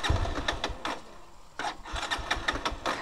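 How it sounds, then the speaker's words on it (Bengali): A Pulsar motorcycle with its carburettor emptied of fuel cranks without catching, a rapid rhythmic chugging from the starter in two bursts separated by a brief pause, close and loud, no talk. "ওকে, আমরা এখানে স্টার্ট দিয়ে দেখি স্টার্ট নেয় কি না।"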